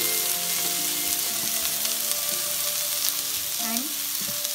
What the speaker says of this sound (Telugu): ఆనియన్ కూడా ఇట్లా మంచిగా రోస్ట్ చేయండి కదా.